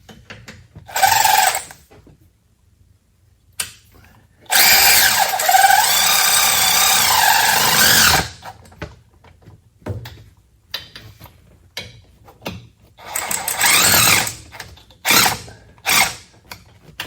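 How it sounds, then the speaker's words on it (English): A speed wrench tightening bolts on KEMIMOTO whip mounts, close ratcheting bursts with a long steady run of clicking in the middle and shorter spurts around it. "Switch over to my speed wrench here."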